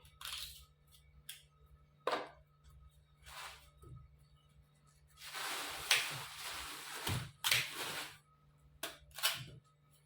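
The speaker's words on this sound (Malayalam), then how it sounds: "ഇതുപോലെ തൊലി കളഞ്ഞ് റെഡിയാക്കി ഇടാം" Freshly harvested cassava is peeled by hand, with irregular close scrapes, snaps and cracks in short bursts separated by quiet gaps.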